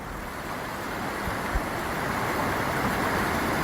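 Floodwater rushing like rapids down through Sankey Valley, a steady broadband roar of churning water with wind buffeting the microphone, continuous and fairly loud throughout.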